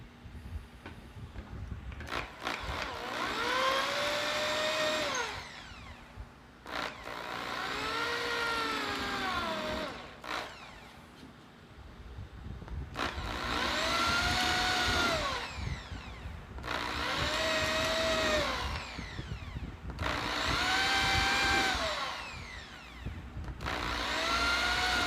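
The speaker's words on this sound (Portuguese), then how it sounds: "Eu vou fazer os furos aqui agora, antes de chegar na linha, naquela linha horizontal de espaçamento." A power drill bores holes in wood while a dovetail joint is laid out, its whine rising and falling in several long passes with brief pauses between them.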